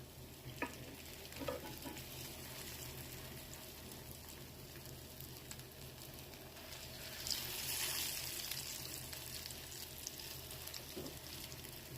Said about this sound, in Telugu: ఇది షాలో ఫ్రై చేస్తున్నాను నేను.